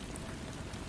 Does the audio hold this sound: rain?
yes